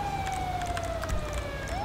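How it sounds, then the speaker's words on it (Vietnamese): A police siren in the GTA 5 video game wails with a steady, slowly falling tone over continuous engine rumble, loud and unbroken throughout the scene. "Ai tắt còi hú đi"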